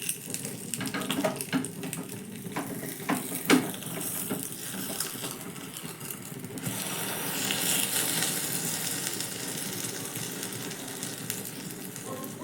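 A homemade tiffin snack frying in oil in a pan after being flipped, giving a steady soft sizzle with a few small pops early on and the hiss swelling a little later, with no talking.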